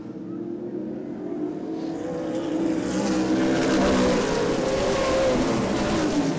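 Outlaw Super Late Model race cars roaring around Angola Motorsport Speedway during a 40-lap feature, engine drone building louder as the pack approaches and sweeps past.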